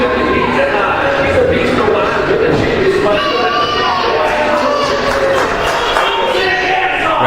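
A wrestling arena crowd in Syracuse cheers and roars as Chris Cayden enters the ring. The dense, steady crowd noise stays loud throughout, with ringing tones and possible voices mixed in.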